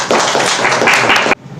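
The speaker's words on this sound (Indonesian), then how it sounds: "Tepuk tangan Mas Bimo dan Iga ya." Classroom applause for two students in a teaching session, a short, close burst of clapping from a small group that stops abruptly after about a second.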